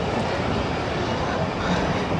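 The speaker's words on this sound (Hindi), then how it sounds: "10 डाउन अल्लामा इकबाल एक्सप्रेस रवाना हो गई है कोट लखपत रेलवे स्टेशन से" The 10 Down Allama Iqbal Express pulls out of Kot Lakhpat railway station, a steady loud rumble of rolling carriages and wheels close by.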